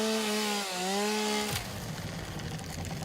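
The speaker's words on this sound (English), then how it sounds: "Chainsaw!" A chainsaw in the video game Satisfactory first drones at a steady pitch with a brief dip. It then bites into wood and turns into a loud, rough, grinding cut for the rest of the moment.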